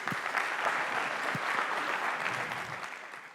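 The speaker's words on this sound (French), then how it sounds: "on peut déjà applaudir" An audience at an expert business talk applauds steadily, a dense, even burst of clapping from a seated crowd that gradually tapers off.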